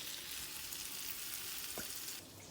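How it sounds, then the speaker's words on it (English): Vegetables with garlic and onion powder sauté in a pan, giving a steady close sizzle and hiss throughout that quiets slightly near the end. "I'm just going to pop a little bit of garlic aromas on them, and a little bit of onion powder. And just saute those up"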